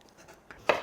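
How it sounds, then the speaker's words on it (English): A knife chops a peeled mango into small pieces on a cutting board, with one sharp, loud cut near the end after a few softer taps. No one speaks. "I'm going to cut this up into small pieces here."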